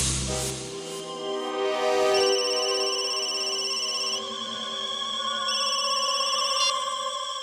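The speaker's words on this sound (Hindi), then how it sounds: "उसके मोबाइल पर एक कॉल आया था" Mobile phone ringing with an incoming call in a crime drama scene: a bright, repeating electronic ringtone melody of sustained high tones, fairly loud and continuous for several seconds, with no talking over it.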